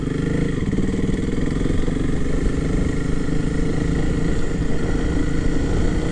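Honda CRF300L motorcycle riding through town, a loud, close, steady engine drone with constant low rumble and wind, holding an even pitch without talk.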